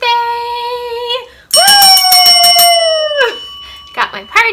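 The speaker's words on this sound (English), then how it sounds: "so my bell will have to work for our celebratory noise" A hand bell is rung as a celebratory noise for a small business's birthday: a sustained ringing tone, then a rapid run of repeated loud strikes that fade, with a voice cheering near the end.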